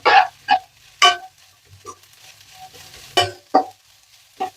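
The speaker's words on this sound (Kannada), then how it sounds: "ಇದನ್ನು ಕೂಡ ಸ್ವಲ್ಪ ಚೆನ್ನಾಗಿ ಈ ರೀತಿ ಫ್ರೈ ಮಾಡ್ಕೋಬೇಕಾಗುತ್ತೆ." Carrots, beans and cabbage being stir-fried in a pan for vegetable fried rice: several loud, separate scraping stir strokes spaced irregularly over a quiet background, no talking.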